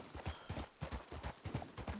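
Horse hooves clop over a stony path in Red Dead Redemption, a brisk, steady rhythm of close, distinct hoof strikes with no talk.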